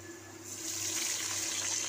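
Soaked chickpea water is poured from a container into a pan of browned onions, making a steady, soft rushing splash that builds and continues to the end in a quiet kitchen.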